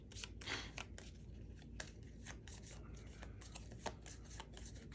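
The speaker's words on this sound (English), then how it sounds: "Here's 2 more and needs to shuffle for 1 more." Cards for the Nemesis board game riffled and shuffled by hand in a quiet room, a soft continuous papery flutter with a few sharper snaps and taps.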